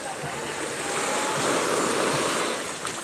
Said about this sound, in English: Look at the wave coming up.